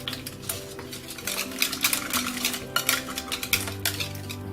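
Spoon clinking and scraping in a bowl while banana is mashed into almond meal, with quick irregular taps and scrapes over a faint hum, close and moderately quiet.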